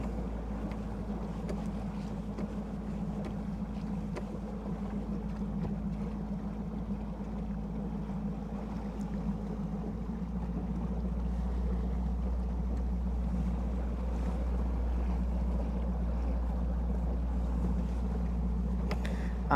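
A fishing boat's outboard motor cruising steadily on Lake Guntersville, a constant low droning hum with wind buffeting the microphone, growing slightly louder partway through, with no talking.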